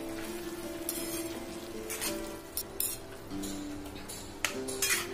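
Gavar (cluster bean) bhaji is stirred in a pan, with a soft steady sizzle and intermittent spoon scrapes and clinks against the metal, fairly quiet and close.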